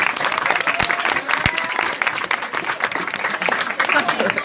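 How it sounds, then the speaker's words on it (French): Studio audience on a French game show applauds the teams, a steady wash of clapping lasting several seconds with a voice speaking over it. "on va les applaudir bien fort"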